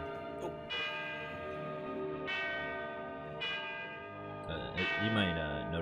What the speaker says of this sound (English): You might notice the bells ringing in this scene.